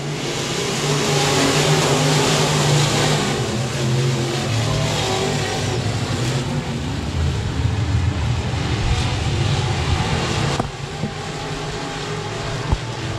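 A dirt track race car at a speedway roars on the throttle, its engine holding a loud, steady high drone with rising revs as it drives deep into the turns, close and continuous with no talk over it.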